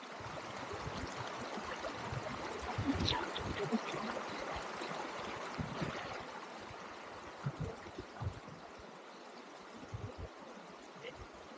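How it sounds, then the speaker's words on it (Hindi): Steady rushing water pours and splashes continuously from a mountain waterfall heard from nearby, with a few faint voices underneath. "झरने की आवाज"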